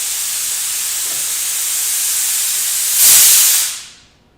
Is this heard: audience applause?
no